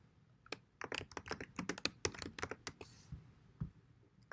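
Fast typing on a computer keyboard while entering a URL, a steady close run of clicky keystrokes with a few heavier taps near the end.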